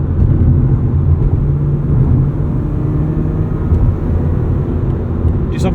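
A 2009 Mazda RX-8 rotary engine revs out from inside the cabin, a loud, steady, low droning roar that holds without a break.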